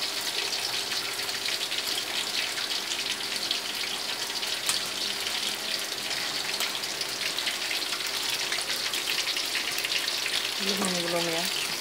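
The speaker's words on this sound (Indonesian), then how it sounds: "Jadi ini ikan mairo, goreng tepung crispy." Battered mairo fish fried crispy in flour batter sizzles and crackles steadily in hot oil, a dense continuous frying hiss, with a brief voice near the end.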